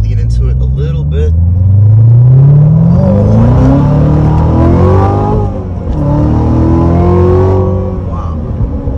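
A Chevy 6.2 engine accelerates hard in second gear, its loud rising roar climbing steadily in pitch, heard up close from inside the vehicle with excited talk over it.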